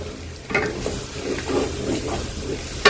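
An egg frying in a hot pan in a home kitchen, a close, steady sizzle with small rises in crackle and a sharp clank at the end.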